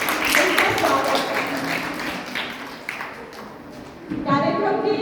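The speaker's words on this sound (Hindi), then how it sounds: "जोरदार तालियों के साथ उनका स्वागत।" Applause from an audience at a school farewell function welcoming a retiring English lecturer: a dense, steady patter of clapping that carries on for several seconds and thins near the end, with a voice speaking over it.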